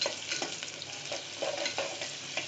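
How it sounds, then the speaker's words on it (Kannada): Two onions frying in a pan for a chicken fry, with a steady sizzle and scattered stirring scrapes and taps throughout, close and moderately loud, no voices. "2 ಈರುಳ್ಳಿ ಹಾಕಿ ಚೆನ್ನಾಗಿ ಫ್ರೈ ಮಾಡಬೇಕು."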